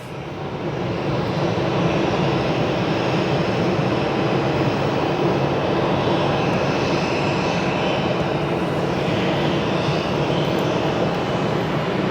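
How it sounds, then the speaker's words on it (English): A fixed-wing airplane arriving at Phoenix Sky Harbor airport gives a steady, loud engine roar that fills the whole stretch, with no talk over it. "Got an aircraft arrival down below us"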